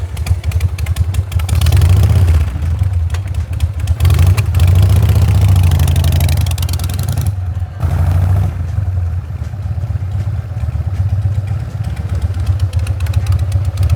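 A motorcycle set up with a jockey shift and foot clutch runs steadily underneath, loud and close, with a low engine drone that swells and eases as the clutch is feathered, briefly dipping near the middle before picking back up.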